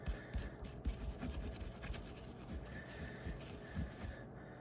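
A rag scrubs over a tobacco pipe bowl in quick, uneven scratchy strokes, faint and close, with no voices.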